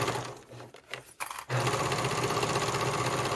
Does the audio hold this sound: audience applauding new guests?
no